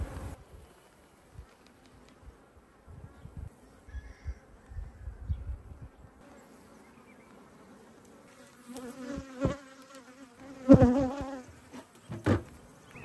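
Honeybees buzzing around an open beehive during a beekeeping inspection, a steady swarm hum that is close and fairly loud, with individual bees droning past in louder swells toward the end; no speech.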